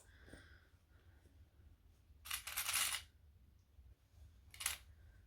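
A few quiet plastic clicks and snaps as sewing clips are fastened onto cushion fabric near a zipper, with brief rustling bursts between them in a quiet room.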